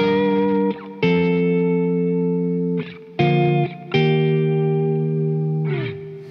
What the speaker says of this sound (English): we're just trying to find that kind of push clean tone that I like to go for with a bit of ambience.